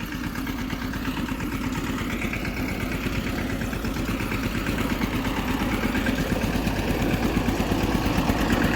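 Tubewell pump engine running on a farm, a steady close chugging drone with fast regular pulses, loud and continuous with no talking.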